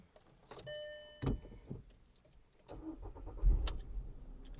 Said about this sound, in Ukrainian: Двигун запускається чудово, помилок нема ніяких.